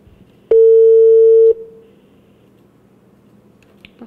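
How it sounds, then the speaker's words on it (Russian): A single long telephone ringback tone sounds for about a second, steady and clear, then silence follows as a call to a journalist's contact goes unanswered. "12 часов, время звонить Олесе Владимировне."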